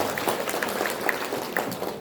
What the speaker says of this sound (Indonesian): Tepuk tangan buat Bapak Ibu yang lebih persyarikatan.